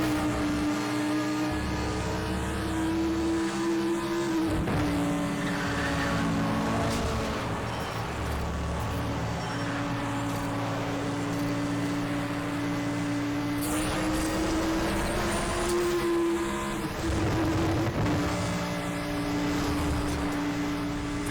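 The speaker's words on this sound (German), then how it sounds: "ist das der Motorsound von den Audi" Audi car engine in the racing video game Need for Speed: The Run, a steady droning tone that rises and falls with shifting revs over continuous road noise, loud and unbroken throughout.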